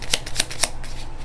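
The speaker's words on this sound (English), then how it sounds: "these are hard to shuffle" A deck of tarot cards being shuffled by hand, three crisp riffling bursts in quick succession followed by a softer rustle, close and clear with no talking.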